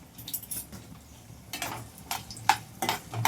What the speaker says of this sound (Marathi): बटाटे ना थोडेसे असे फ्राय करून घ्यायचे आहे त्या तेलामध्ये